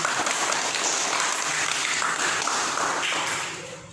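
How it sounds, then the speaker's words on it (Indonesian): A class of pupils applauds a student group, a steady, full round of handclaps lasting several seconds before tapering off at the close. "Tepuk tangan sekali lagi."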